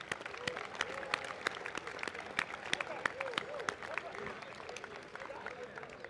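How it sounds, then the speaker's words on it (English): Graduates clap for themselves at a New York Maritime commencement, a lively round of applause with distinct, sharp individual claps over a crowd murmur, steady and fairly close throughout. "give yourself a round of applause and a few high fives"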